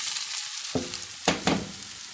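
Rice rolls sautéing in a little oil in a pan, a bright hissing sizzle with a few louder bursts as the food is stirred and moved, close and without talk.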